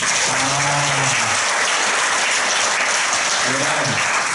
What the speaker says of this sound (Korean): 오늘 처음 온 친구들한테 한번 박수 한번 쳐주십시다.